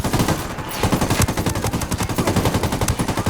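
Sustained automatic gunfire in the shooter game Ghost Recon Wildlands, a rapid, steady stream of loud, close shots lasting the whole stretch, with no talk over it.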